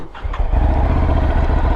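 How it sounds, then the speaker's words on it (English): A Ducati motorcycle engine starts after a short cranking lag, catching at once into a loud, close, throbbing idle that holds steady to the end. "There is a slight lag with the way some Ducatis start. Whenever you press this ignition switch, it's not like instant"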